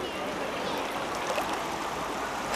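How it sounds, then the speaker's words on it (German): Knee-deep water of the cold Schwarza river rushing steadily around the legs, a continuous close broadband wash of flowing water with no pauses. "es geht schon bis zu den Knien das Wasser."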